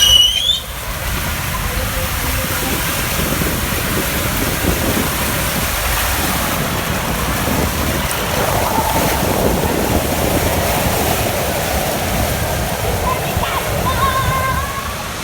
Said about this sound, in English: we're gonna hit a body slide